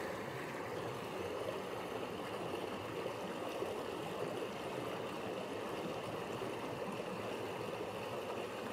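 Stream water rushes steadily through a deep gorge at Devil's Pulpit in Scotland, a close, dense, continuous broadband roar with no pauses or voices over it.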